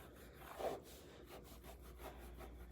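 Scrubbing dried acrylic paint off a palette: a steady, close rubbing and scraping that runs the whole time, with one stronger scrub stroke near the start and no talking.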